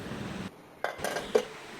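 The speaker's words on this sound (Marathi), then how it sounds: "थंड झाल्यानंतर कुकरचं झाकण काढावं." A metal pressure cooker lid is lifted off after cooking popcorn, giving a couple of close metallic clanks and a light clink against the pot, with no talking.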